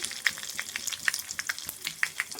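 Cumin, mustard seeds, curry leaves and crushed garlic sizzle and crackle steadily in hot oil for a Marathi kulith soup, with close, sharp pops scattered over a continuous hiss.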